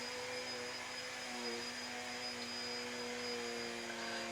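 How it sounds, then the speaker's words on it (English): A Hoover vacuum cleaner runs continuously in the background, a steady even whine and hum with no pauses and no other sounds on top. "So I know you can hear that hoover in the background."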